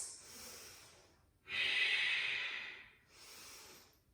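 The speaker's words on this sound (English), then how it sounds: "Deep ujjayi breaths" Slow, deep ujjayi breathing during a vinyasa yoga flow: three long, hissing breaths heard up close, the middle one loudest, with short quiet gaps between them.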